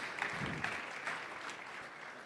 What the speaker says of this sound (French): On l'applaudit également.